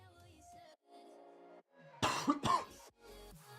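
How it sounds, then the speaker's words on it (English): A person coughs and clears their throat during a live game stream, first a few soft rasps and then two loud, close, harsh coughs in quick succession, followed by quieter throat noises. "Awkward time to start coughing."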